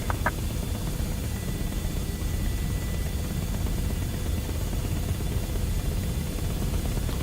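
An Apache attack helicopter in Microsoft Flight Simulator 2024 gives off a continuous dense rotor and turbine roar, steady and loud, with a couple of faint clicks at the start.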